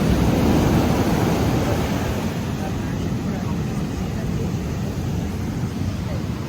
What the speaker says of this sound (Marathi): अंजुना बीच, पाणी पाक खवळले